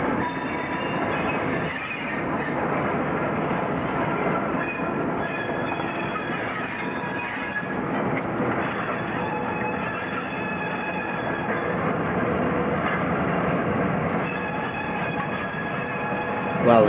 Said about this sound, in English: While the travelling pilot's train departs the yard